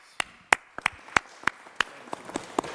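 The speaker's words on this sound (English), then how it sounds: "a round of applause for this man for what he does for the city council and the city of Cape May" Scattered, sparse hand claps from a few people at a Cape May city council meeting, about nine sharp separate claps in an uneven rhythm over a quiet room, with no talk.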